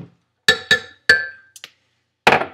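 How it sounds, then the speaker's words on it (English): Ice cubes dropped into a glass for a chocolate peanut butter shake make several sharp clinks in a quick irregular series, loud and close, with no talk. "and then I'll put like 4 ice cubes. So I'll go ahead and pour that in."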